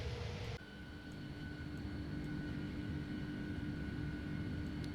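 Inside a plane flying slowly at max flaps just above stall speed in windy weather, a steady loud engine drone and cabin hum continues throughout, with a brief sharper burst at the start.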